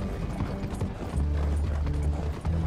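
Horse hooves clip-clopping in Red Dead Redemption 2, a steady galloping rhythm of muffled thuds under rattling coach and tack noise, moderately loud and close.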